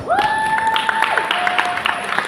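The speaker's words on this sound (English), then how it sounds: "They deserve a round of applause." Applause from a recognition-ceremony audience, moderate and steady throughout, with a tonal whistle-like sound gliding across it.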